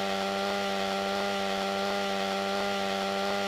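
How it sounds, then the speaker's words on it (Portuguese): A chainsaw in the video game GTA Trilogy Definitive Edition drones steadily with a sustained engine whine, revving in regular pulses about every half second, loud and close with no talk. "eu quero mostrar pra vocês o som da motosserra"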